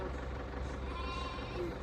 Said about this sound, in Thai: เขาเรียกแพะ หรือแกะ ข้างทาง